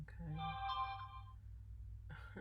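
A phone ringtone plays softly in a quiet room, a short melodic tone sequence that fades, followed by a brief spoken word.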